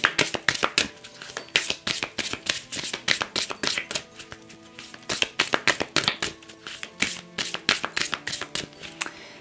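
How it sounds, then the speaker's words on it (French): Oracle cards are shuffled by hand in rapid, crisp riffling bursts, close up, with a steady flicking rhythm broken by short pauses and no talk. "Alors, on va recouvrir avec l'oracle des fées de Doreen Virtue."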